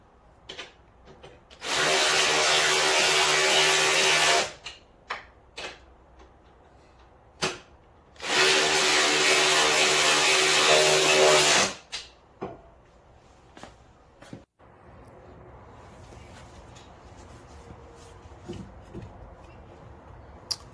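A power tool tightens front suspension bolts in two long, steady whirring bursts of about three seconds each, separated by sharp metallic clicks and clunks, then quieter handling noises.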